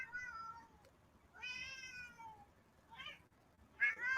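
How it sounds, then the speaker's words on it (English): A cat gives several drawn-out meows, one stretching over a second, with quiet pauses between them and a short sharp call at the end. "That was the longest meow I think I've ever heard in my life."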